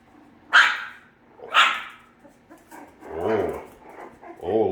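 A young Cavalier King Charles Spaniel puppy lets out two sharp little barks followed by softer growly, whimpering yips, close and clear in a quiet room.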